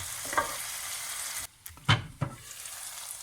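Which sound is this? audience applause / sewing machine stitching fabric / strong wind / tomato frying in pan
tomato frying in pan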